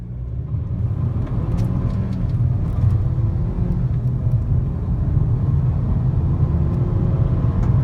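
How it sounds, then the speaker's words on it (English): A 2015 Mercedes-Benz CLA250 engine roars steadily under full-throttle acceleration to 60, a loud continuous rumble heard from inside the front-wheel-drive car, with no talking. "Let's floor it and get to 60."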